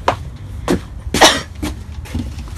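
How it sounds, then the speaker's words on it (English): A sick person coughs several times in short, separate bursts spaced across a couple of seconds, fairly close and moderately loud, with a quiet background between coughs. "why am I coughing so much?"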